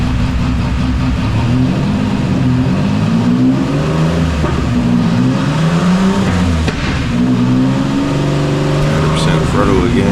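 A car held at full throttle on a dynamometer, its engine roaring loud and continuous for the whole stretch with the pitch wavering as it pulls, and a voice talking over it.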